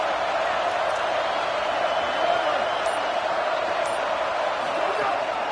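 A steady stadium crowd roar swells continuously behind a broadcast as fans cheer for the defense on third down during an Ohio State at Indiana college football game.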